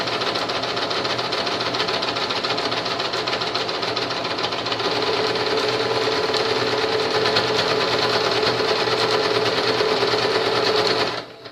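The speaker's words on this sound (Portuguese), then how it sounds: "E vou pegar o cantinho que tá do meu viés e vou passar uma costura reta" A sewing machine runs a straight seam along bias tape, its rapid, even needle chatter loud and close for the whole stretch, shifting slightly in tone midway before stopping abruptly at the end.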